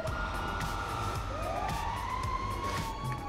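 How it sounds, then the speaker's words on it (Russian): A wailing ambulance siren in GTA Online rises and sweeps through its electronic cycle over a constant low background rumble, lasting a few seconds with no voices. "это, судя по всему, скорая помощь едет"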